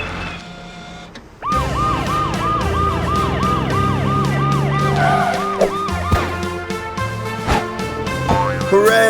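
A cartoon fire truck's siren wails in repeated rising-and-falling sweeps, loud and close, over a busy animated soundtrack with engine rumble and music-like tones, starting abruptly after a brief quieter lead-in.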